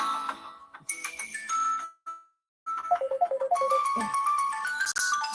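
A mobile phone ringtone plays a melodic electronic tune in two bursts with a short pause between them, loud and close, during a talk on blood pressure management.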